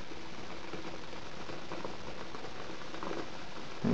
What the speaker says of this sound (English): And you can tell we're still percolating perfectly